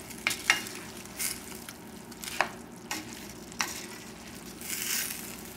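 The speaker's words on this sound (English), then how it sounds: "Mix this up a little." Boneless chicken thighs and vegetables stirred in a pan over a lowered flame, giving a low, steady sizzle with several spaced scrapes of a utensil against the pan.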